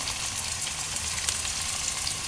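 Chopped onion with ginger and garlic paste fries in a pan, giving a dense, steady sizzle with small crackles throughout and no voices.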